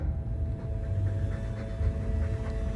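Mabari war dog in the Dragon Age II video game panting steadily, a continuous breathy rhythm set against a low, constant background hum.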